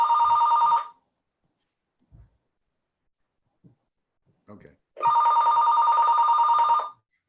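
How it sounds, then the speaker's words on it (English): A desk telephone in an office rings in two long electronic bursts, loud and close, with a pause between them where a few short words and small noises occur. "The phone is ringing on my desk."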